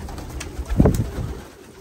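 A racing pigeon gives a single low, throaty coo up close, brief and alone against a quiet background.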